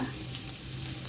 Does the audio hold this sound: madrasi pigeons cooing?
no